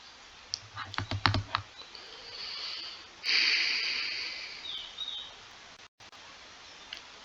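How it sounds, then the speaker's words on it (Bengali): Fingers tap out a short burst of keystrokes on a computer keyboard while entering a search term, a quick cluster of light clicks followed by a steady hiss and a few faint clicks near the end. "এখানে যদি ওয়েব হোস্টিং এটা লিখে সার্চ দিই,"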